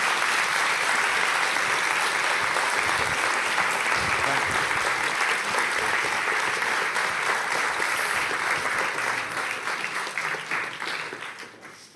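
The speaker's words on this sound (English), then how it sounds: "let's thank the Secretary General with a round of applause" Sustained audience applause at a NATO youth summit, a broad roar of many hands clapping that holds steady for about ten seconds before tapering off at the end.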